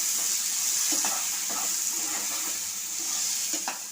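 Chickpeas sautéing with asafoetida, red chilli powder and turmeric in a pan for chana chaat give a steady close sizzle and hiss, with a few soft scraping stirs breaking through.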